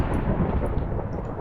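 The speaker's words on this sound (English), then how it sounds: "That is one hell of a thunderstorm." Thunder from a strong thunderstorm rumbles low and steady, a thick continuous roll that fills the short stretch without pause, loud and unaccompanied by voices.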